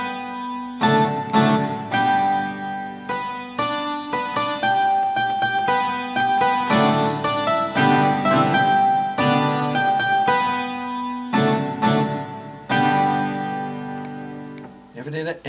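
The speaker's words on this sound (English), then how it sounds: "Evidently, I play guitar a little bit better than I play piano." A guitar voice played on an iPod Nano 5th generation carries a hymn-like tune of plucked notes and chords in a steady, stop-start rhythm, close and moderately loud, with no talk over it.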